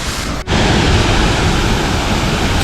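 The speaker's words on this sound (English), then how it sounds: "This is a giant waterfall, and this is a waterfall where you can actually go behind." A giant waterfall in the Brecon Beacons roars as a dense, loud, unbroken rush of falling water, heard from close by with a brief dip near the start.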